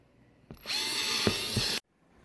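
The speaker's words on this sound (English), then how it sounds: "I drilled a bunch of holes." A power drill bores holes in a plastic laundry hamper, one short loud whirring burst of a bit spinning through the plastic that stops abruptly.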